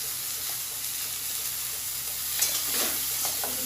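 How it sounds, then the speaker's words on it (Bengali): Onions and green chillies frying in a pan, a steady close sizzle with soft hiss throughout and a few brief stirring clatters near the end. "পেঁয়াজ কাঁচা লঙ্কা দুটো দিয়ে দিলাম, এটাও ভাজা ভাজা করে নিয়েছি"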